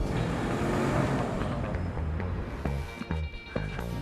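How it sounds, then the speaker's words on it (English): A Nissan Altima with a fuel-efficient VC-Turbo engine drives past, a steady broadband road rumble that fades slightly toward the end, with a few brief knocks and clicks near the close. "Ultima's fuel-efficient VC turbo engine hustles like an MVP."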